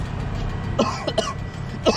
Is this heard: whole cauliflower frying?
no